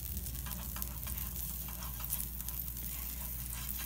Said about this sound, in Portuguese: vou colocar aqui um pouquinho de margarina na frigideira